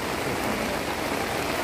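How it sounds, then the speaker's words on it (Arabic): Steady rain falling outdoors in Ourika near Marrakech, a continuous dense hiss of drops with no pauses, close and fairly loud throughout the short stretch and no talk. "اسمع شتا شتا شتا"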